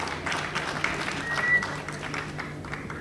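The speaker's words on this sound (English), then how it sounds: "Please, a round of applause." Audience applause at a news event honoring a judge and participants, a steady wash of clapping heard at moderate distance with some murmuring voices underneath.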